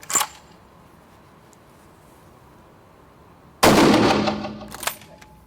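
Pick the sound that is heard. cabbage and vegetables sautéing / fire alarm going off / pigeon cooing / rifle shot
rifle shot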